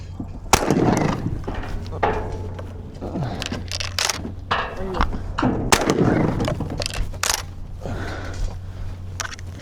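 Shotgun blasts during a pigeon hunt on a dairy farm, several loud, sharp reports at irregular intervals, close by, mixed with thumps and handling noises and a low steady hum underneath.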